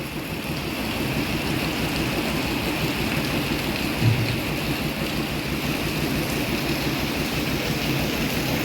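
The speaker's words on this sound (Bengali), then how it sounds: "তুমুল বৃষ্টি না, হালকা হালকা বৃষ্টি হচ্ছে" Light rain falls in a steady, even patter on an afternoon, continuous and fairly close throughout, with a brief slightly louder thump midway and no voices.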